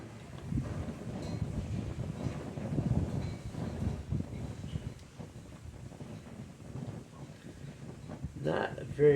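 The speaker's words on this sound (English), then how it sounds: "in the wind like this, it definitely has some challenges." Wind gusts roar steadily across an outdoor microphone beside a small alcohol stove, a loud low rumble that swells and eases, with someone talking through it.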